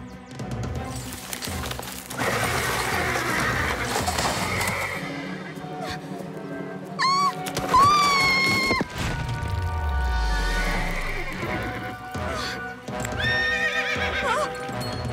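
A cartoon horse whinnies loudly twice amid clopping hooves and rumbling movement, close and lively, with no talking over it.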